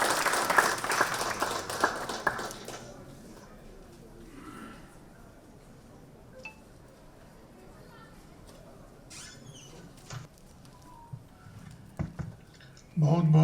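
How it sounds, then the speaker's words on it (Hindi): An audience at an awards ceremony claps to welcome a speaker, a brief burst of applause at the start that quickly fades into quiet room sound with scattered small noises before talk resumes. "जोरदार तालियों से आप उनका स्वागत करते हैं"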